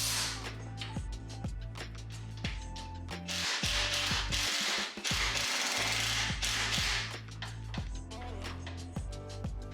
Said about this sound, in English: for the other ones, I used my impact